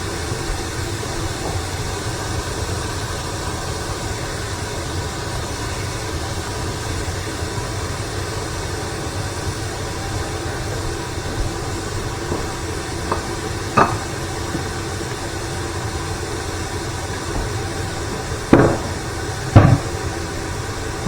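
Beef mince searing in a hot pan, a steady broad sizzling hiss throughout, punctuated near the end by a few sharp scraping knocks of the mince being chopped up.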